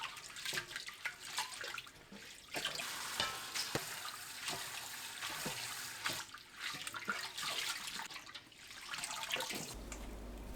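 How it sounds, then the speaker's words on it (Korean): Hijiki seaweed scrubbed vigorously by hand with coarse salt and vinegar, then rinsed in water: close, continuous wet swishing and sloshing with irregular splashy bursts throughout, no voices. "톳, 굵은 소금 1큰술, 식초 1큰술 넣고 바락바락 씻어주세요"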